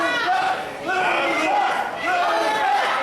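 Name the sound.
wrestling crowd cheering for Luther Wilson III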